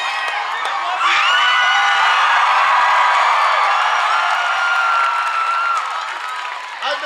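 A huge crowd at President Obama's 2012 UW-Madison speech erupts in loud cheering, whooping and applause that swells suddenly, stays at full roar for several seconds, then begins to fade.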